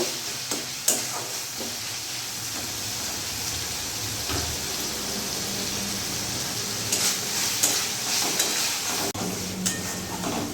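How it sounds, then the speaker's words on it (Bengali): Masala spices for egg curry fry and sizzle steadily in a pan over medium gas, with scraping stirs clicking through at intervals; a continuous close hiss, no voices. "ভালো করে মশলাটা আমি ভেজে নেব।"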